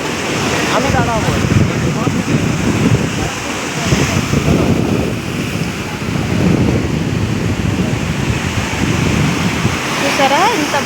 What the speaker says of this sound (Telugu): చూసారా ఇంత బాగా అలలు ఉన్నాయో సముద్రంలో